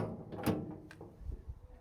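A Kaer fingerprint safe door unlatches and swings open, giving a short, close mechanical clunk followed by fainter rattling movement in a quiet room.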